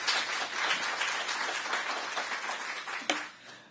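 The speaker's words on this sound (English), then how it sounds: "please, I'd like you to give a round of applause to her." An audience at a talk on chronic kidney disease gives the speaker a round of applause, a moderately loud, continuous wash of clapping that fades near the end after one sharp knock.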